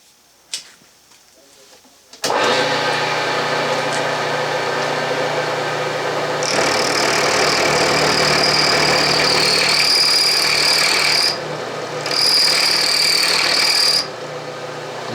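A milling cutter feeds along the Y axis while machining a carriage stop for an Atlas lathe. A few clicks lead into a steady motor hum with a piercing cutting whine that drops out briefly and returns.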